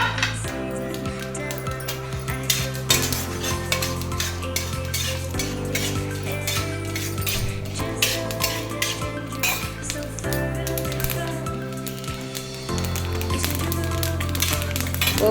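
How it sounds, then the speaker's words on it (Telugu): Onions, green chilies and curry leaves fry in a tempering for gongura curry while a spoon clinks and stirs against the pan, loud and close, over a steady music bed. "పోపు కొంచెం వేగిపోయిన తర్వాత ఆనియన్స్ వేసుకోవాలి."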